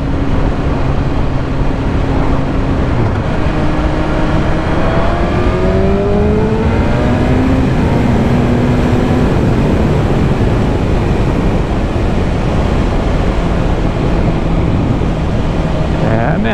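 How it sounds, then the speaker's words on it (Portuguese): A BMW S1000RR motorcycle fitted with an Akrapovic exhaust roars at speed, a loud, dense engine note rising and falling through revs over constant rushing wind noise. "o Akrapovic berra"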